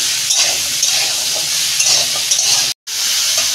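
Mixed vegetables for a Bengali niramish curry fry in a pan, giving a loud, close, steady sizzle with hissing and stirring, briefly cut by a short dropout near the end.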